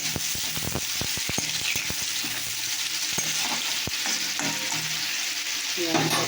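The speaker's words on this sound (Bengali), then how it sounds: "আর এটাকে এখানে একটু পেঁয়াজ দিয়ে দিলাম।" Onion frying in a pan of dal gives a continuous close sizzle, with bursts of sharp stirring taps and scrapes against the pan throughout. No voices are heard.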